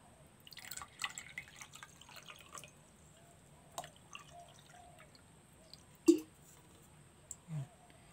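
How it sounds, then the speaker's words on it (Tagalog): Meltwater is drained from ice, producing sparse, faint drips and small splashes spread irregularly over a quiet background, with one louder plop near the end. "alisin na muna natin yung tubig"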